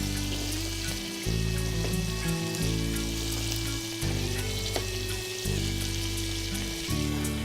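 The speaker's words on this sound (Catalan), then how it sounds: "Veieu, el garrofó ja va en l'oli calent" Garrofó lima beans sizzling in hot oil in a paella pan, a dense continuous frying crackle with a low steady hum underneath, close and unbroken throughout.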